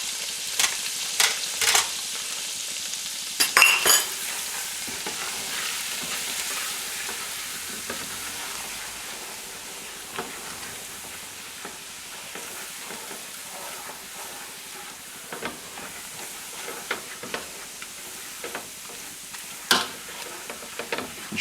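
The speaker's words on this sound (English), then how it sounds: "Just let that sizzle for a few seconds." Dry spices sizzle and crackle in a frying pan for a butter chicken dish, a steady soft hiss broken by sharp clicks and scrapes of stirring, close and fairly quiet with no talking.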